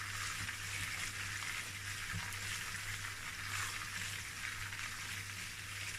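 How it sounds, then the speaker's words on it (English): Beef sizzles steadily in a hot pan while being stirred, a faint continuous frying hiss with a low hum underneath and no talk. "So I'm going to fry this for about 2 minutes"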